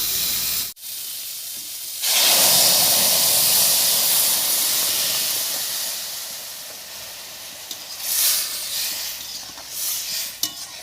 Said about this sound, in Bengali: ফুলকপি আর শিমটা বেশ একটু ভাজা ভাজা হয়ে গেছে এবারে ডালটা দেবো